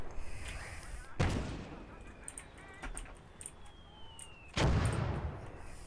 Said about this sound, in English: Good, so we're starting to shell them now.